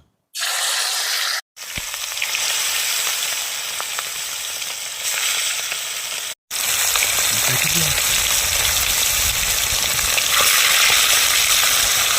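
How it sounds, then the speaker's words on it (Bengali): Chicken pieces hit very hot oil in a village-style biryani pot, bursting into loud, steady sizzling and frying that runs almost continuously, broken by two brief silences near the start. "তাই এবারে আমি মাংসগুলো একে একে দিয়ে দেবো ভেজে নেবো"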